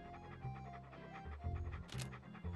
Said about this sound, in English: That dog does not look vicious at all.